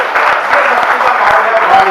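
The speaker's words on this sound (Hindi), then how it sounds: "एक बार हाथ खड़े करके तालियां बजाए।" A seated crowd at a Hindi poetry gathering claps together, a steady loud wash of applause with rapid hand claps running throughout.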